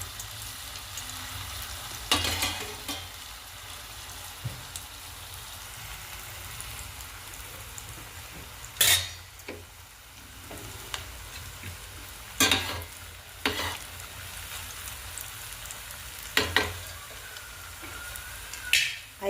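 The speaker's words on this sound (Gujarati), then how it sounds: "તો ફ્રેન્ડ્સ, આપણે આ તળવા નાખી દઈએ." Semolina fries frying in hot oil, a soft continuous sizzle and bubbling with occasional louder crackles and spatters as pieces are stirred or added.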